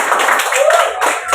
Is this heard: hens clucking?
no